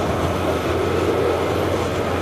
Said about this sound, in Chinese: 那飞机现在正在跑道上缓缓地滑行